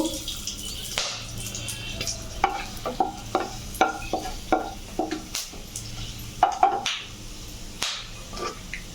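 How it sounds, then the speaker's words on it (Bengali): Bay leaves, cinnamon sticks, cardamom and cloves are tossed into hot oil for tempering a duck curry, giving a soft sizzle with a run of sharp crackles and pops, some utensil stirring, and no talking. "দুটি তেজপাতা তেলে দেবো ফোড়নে, দুটো দারচিনির ডাল, একটা এলাচ আর লবঙ্গ আমি তেলে দিয়ে নেব।"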